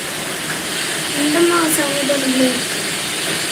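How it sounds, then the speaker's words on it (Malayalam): Heavy rain falls without pause in a steady, dense hiss, with a few faint tonal sounds rising briefly through it in the middle. "ഇവിടെ നിൽക്കാതെ പെയ്യാട്ടോ ഇന്നലെ വൈകുന്നേരം തുടങ്ങിയ മഴ"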